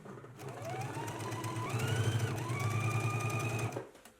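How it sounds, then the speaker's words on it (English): A sewing machine top stitches a 1/4 inch line along a jacket sleeve seam, running steadily for several seconds with a rising whine as it speeds up, then stops. "we're going to do a 1/4 inch top stitch all the way along the sleeve seam"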